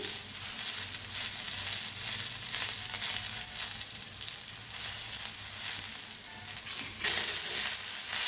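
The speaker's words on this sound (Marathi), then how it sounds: "मिक्स करून भाजून घेऊया जिऱ्याला" Cumin and coriander dry-roast in a pan for a red chilli thecha, giving a soft steady sizzle and crackle with occasional scraping stirs, close and continuous.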